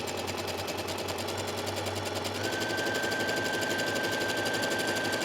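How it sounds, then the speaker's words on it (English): A sewing machine runs a zigzag stitch on a garment, a steady fast mechanical clatter with rapid even needle strokes, close and continuous throughout with no talk. "set your machine for zigzag, and then sew"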